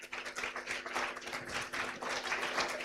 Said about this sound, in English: So let us do a round of applause for the Transcend Steering Team.